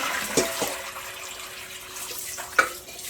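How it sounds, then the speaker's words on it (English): Dye-tinted rinse water runs down a sink drain in a steady close wash of running water, with a couple of brief splashes and gurgles. "Here's the color of the dye going down the drain."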